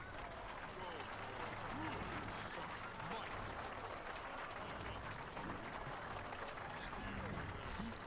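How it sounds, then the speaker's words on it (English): Dense, steady applause from a large crowd in Guild Wars 2 fills the whole stretch, loud and continuous with no pauses, like a game arena cheering at a tournament. "Very, very loud clapping."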